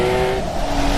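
A Guntherwerks Porsche 993 Speedster with an air-cooled, naturally aspirated 4.0-litre flat-six and lightweight single-mass flywheel revs close by, its tone climbing quickly and loudly in a brief burst.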